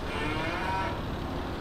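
Cattle low in a long, steady moo inside the Farming Simulator 22 video game, a single sustained call heard clearly with no talking.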